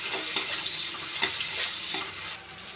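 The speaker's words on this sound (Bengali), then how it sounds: "কুচিয়ে রাখা পেঁয়াজ দেবো," Chopped onions fry in hot oil for a Bengali rohu fish curry, giving a steady, close, hissing sizzle with occasional sharper pops, fading slightly at the end.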